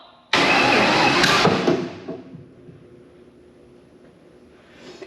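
A starter button cranks an engine that is missing a spark plug, giving one loud, dense burst of cranking for about a second and a half that then fades to a low rumble, with a brief rise again at the end.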